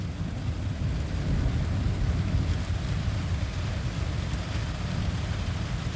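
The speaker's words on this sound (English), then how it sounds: "I'm wondering if this is a supercell thunderstorm, because super thunderstorms are rare." A severe summer thunderstorm in Laporte, Indiana, with steady heavy rain and low rumbling thunder forming a continuous broadband wash, with no speech.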